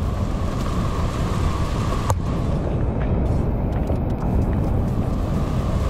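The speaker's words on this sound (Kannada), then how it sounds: "ಆ ನೀರಿನ ಸೌಂಡ್ ಮಾತ್ರ ಹೆವಿ ಕೇಳ್ತದೆ ನನಗೆ" Heavy monsoon water roars down the Bangara Kusuma waterfall in a dense, steady rush of broadband noise. It is loud and close and continues without a break from start to end.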